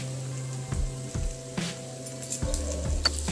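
Golden-brown onion paste frying with cumin and coriander powder, a soft sizzle broken by several scraping stirs and clinks of a utensil against the pan, no speech.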